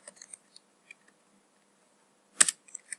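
Python code being typed on a computer keyboard: a few sparse, quiet key clicks, then a brief cluster of louder taps and a few more clicks at the end, close by.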